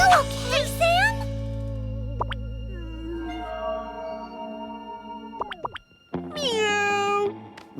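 Cartoon cat character meowing in a kids' animated show, with high bending meow-like voice calls, playful swooping tones and sound effects, and characters speaking throughout.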